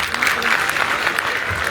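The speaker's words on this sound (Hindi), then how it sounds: "एक बार जो ताली हो जाए मंत्री जी के लिए।" An audience at an Indian chartered accountants' event claps for a government minister in a brief, loud, dense burst of applause.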